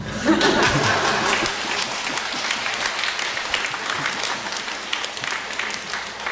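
Audience applause at a Korean church talk, steady clapping from a crowd that fills the whole stretch, with scattered chuckles and laughter mixed in and a brief voice near the start.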